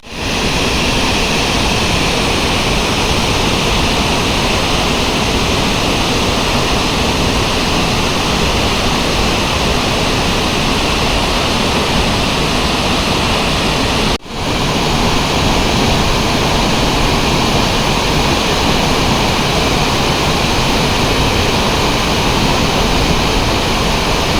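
Ukshi Ranpat waterfall pours beside the Konkan railway line in a steady, loud, broadband roar of falling water, continuous throughout with one momentary dip partway.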